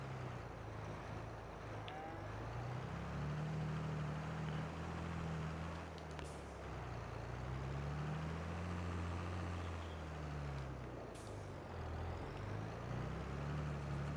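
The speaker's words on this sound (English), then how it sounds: "we will use the tractor for this" Tractor engine in the Farming Simulator 22 video game, running steadily at moderate loudness as it drives back and forth compacting silage on a farm. The low drone rises and falls in pitch with the throttle, heard alone without talk.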